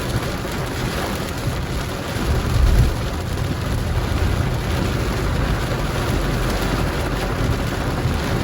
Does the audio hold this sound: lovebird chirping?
no